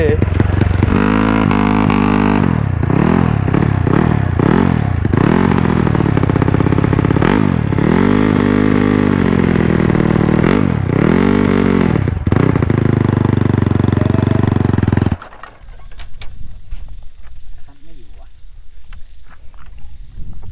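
A Honda Wave 110i motorcycle fitted with a 125cc engine, 72 mm piston and four-valve head revs loudly and repeatedly at a standing launch, pitch swooping up and down for about fifteen seconds before cutting off abruptly, with voices around it.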